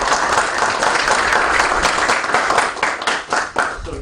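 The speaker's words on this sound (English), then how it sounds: "Please join me in welcoming with a strong applause to Dr. Keshav Parry." Loud, sustained applause from a sizable audience, dense steady clapping that carries through and begins to thin toward the end.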